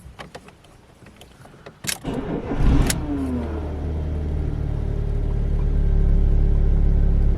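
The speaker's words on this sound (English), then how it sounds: "Now we can start up the engine." A car with a weak battery cranks briefly after a few clicks and settles into a steady idle that grows a little louder and holds, with no talking.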